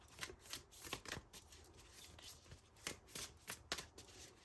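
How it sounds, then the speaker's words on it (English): Tarot cards being shuffled by hand at close range, a run of crisp riffling and slapping bursts with short pauses between, no talking. "Lots of shuffling."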